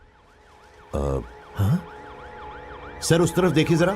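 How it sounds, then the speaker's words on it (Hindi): An ambulance siren wails steadily in the background with a rising and falling tone throughout, while a few people speak over it in short bursts nearby. "यहाँ पर एम्बुलेंस आ गई है"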